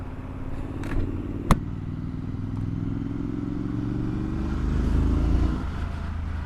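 A 2021 Triumph Street Scrambler motorcycle engine runs with a steady low throb, rising slightly as if revved, with a sharp clack partway through and light clatter.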